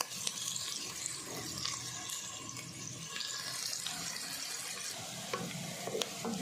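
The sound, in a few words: frying onions in a pan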